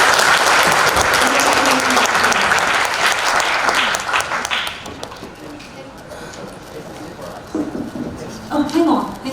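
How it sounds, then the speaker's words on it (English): Loud audience applause at a youth festival business idea competition, thick clapping for about four seconds that fades into scattered claps and murmuring, then brief voices and a few bumps near the end. "Everyone, give warm applause once again for good day."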